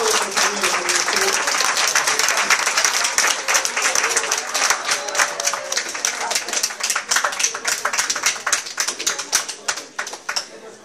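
Applause at a Morena party municipal assembly in Puebla, a dense crowd of clapping that thins out into sharper, more separate claps toward the end, with talk mixed in under it.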